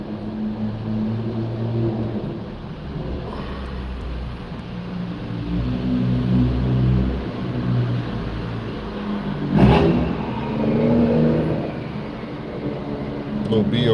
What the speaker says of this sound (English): Look like a BMW M5. It's one of them. It's M5. Yeah. Sound like an M5.